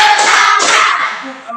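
A classroom group of students claps together in unison during a morning class routine, a couple of loud, close bursts of hand claps merging with chatter and voices that fade toward the end.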